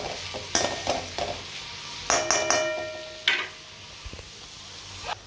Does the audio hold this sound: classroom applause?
no